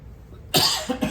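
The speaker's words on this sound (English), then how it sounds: "Excuse me for the coughing." A person gives a sudden sharp cough followed by two smaller coughs in quick succession, close and loud after near silence.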